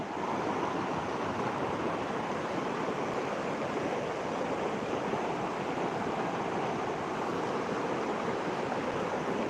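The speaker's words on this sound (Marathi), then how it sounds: "पहा नदीला नदी भरून चालली" A river running full and swollen after heavy monsoon rain in rural Jalna district, a broad, constant rushing roar of water, steady and unvarying for nearly ten seconds with no voices.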